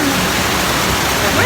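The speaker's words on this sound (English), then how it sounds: "it suddenly started raining really," Heavy rain pours down steadily at a zoo, a dense, loud, unbroken hiss of falling water that fills the whole moment without pause.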